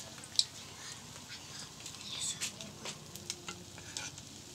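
Potato snack frying in very hot oil over a low flame, a faint, steady sizzle with scattered crackles and pops that brighten briefly near the start and the middle.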